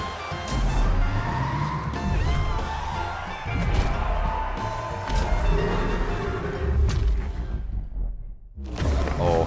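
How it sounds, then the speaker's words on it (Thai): A turbocharged Mercedes-AMG GT race car engine in Need for Speed Heat roars continuously with whooshing passes and tire noise, loud and busy throughout, briefly dropping out before surging back near the end. "ถึงสนามแข่งแล้วนะครับเสียงเทอร์โบลั่นมากคันนี้"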